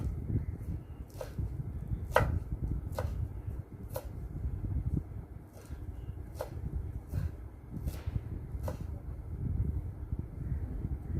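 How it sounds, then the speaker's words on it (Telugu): A knife chops food into small pieces for chicken biryani, a series of sharp, evenly spaced taps on a board at a slow, steady pace over low background rumble. "సో చిన్న చిన్న ముక్కల కింద కట్ చేసేసుకుందాం."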